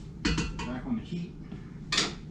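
A chili pot being set back down on a stove, giving a few loud metallic clanks and scrapes in quick succession, then a final sharper knock near the end, close by with no talk.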